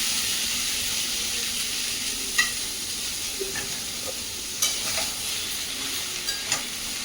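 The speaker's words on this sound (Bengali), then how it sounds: "তেল দিয়ে চাল কুমড়োগুলো দিয়ে দিচ্ছি" Ash gourd pieces fry in a little oil, a continuous close sizzle with scattered clicks and scrapes of stirring or utensil taps on the pan.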